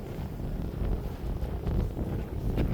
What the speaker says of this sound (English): it's a little windy, so if you guys hear the wind,